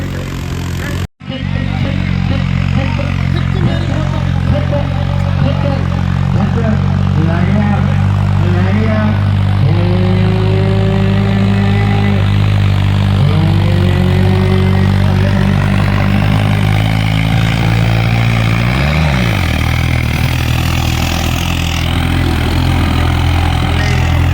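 New Holland tractor pulling a loaded trolley, its diesel engine droning loud and close throughout with shifting load and a voice talking over it.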